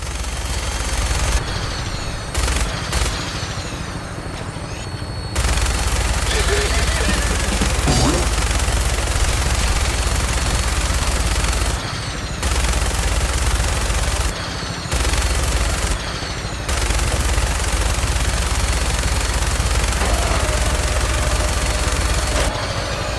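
Dense bursts of automatic gunfire rattle through a Fallout game battle at the Enclave headquarters, with loud volleys broken by short gaps over about twenty seconds.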